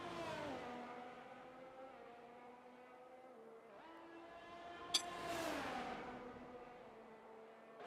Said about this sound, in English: we can hear some cars coming out of the pits